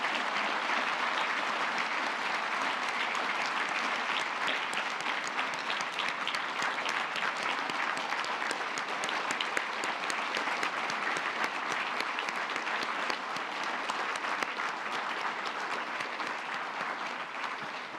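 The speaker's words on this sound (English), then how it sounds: "let's join in a round of applause for the deployed forces" Sustained applause from a large audience, steady and dense clapping throughout with no breaks or voices standing out.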